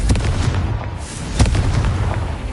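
A Confringo fire spell explosion in the Hogwarts Legacy video game, heard as rumbling booms and blasts layered over busy combat noise, with a sharper burst midway.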